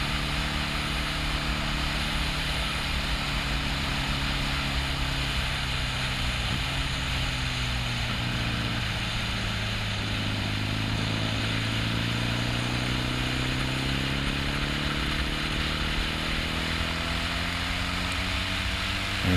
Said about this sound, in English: give this throttle of mine a little twist so that I can just get some speed out of this bike of mine again